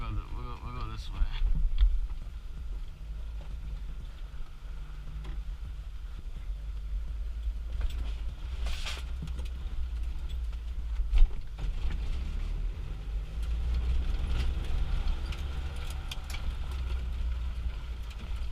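A 1987 Suzuki Samurai JX two-door, likely with a 1.3 liter engine, is driven slowly with a manual clutch, its low steady engine rumble and road noise running throughout as people talk inside the cab.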